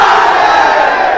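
A large crowd at an Eid-e-Ghadeer religious gathering roars a slogan back in unison, a loud, sustained mass of voices that fills the whole short moment.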